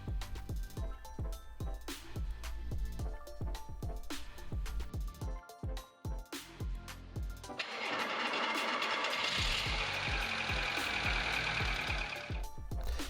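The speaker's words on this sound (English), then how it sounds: "As you saw, the engine started up, no problems at all." A VW Golf Mk2 engine, after its battery contacts are cleaned, gives rhythmic pulsing cranking sounds, then catches and settles into a steady, continuous running note for the last several seconds.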